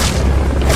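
A grenade blast in Metal Gear Solid Peace Walker on PSP, a loud, dense, rumbling boom that fills the short moment with no gap and no voices.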